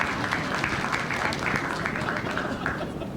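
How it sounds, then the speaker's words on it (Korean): Applause from the audience at a political talk concert, a sustained crowd of clapping hands fairly close and even, fading slightly toward the end, with faint voices mixed in. "큰 박수 부탁드리겠습니다"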